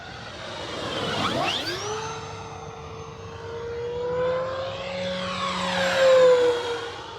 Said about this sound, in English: I don't know if you guys can hear the speed, but it's just, this plane is fast.